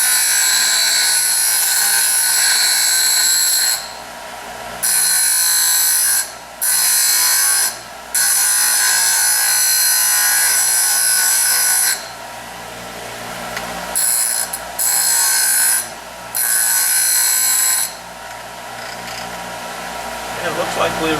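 Steady high-pitched whine of a grinder working marks off metal fuselage tubes for an aircraft seat transition, running in long loud bursts broken by short pauses.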